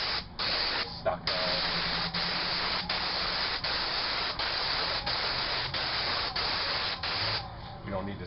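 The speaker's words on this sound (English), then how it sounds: "I'm using a Rack X 515 tip and spraying this. Got my pressure set at 2200 psi." An airless paint sprayer fitted with a Rack X 515 tip, set to 2200 psi, sprays stucco trim with a loud, steady hiss broken by a few brief pauses.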